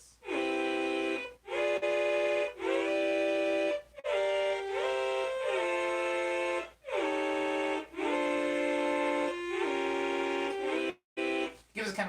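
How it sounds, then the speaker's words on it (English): With portamento turned up, a polyphonic synthesizer plays a chord progression whose notes slide audibly between chords, giving a woozy, bending sound. The sustained phrases are broken by brief pauses, and no one speaks. "If you turn up that for portamento for a polyphonic instrument,"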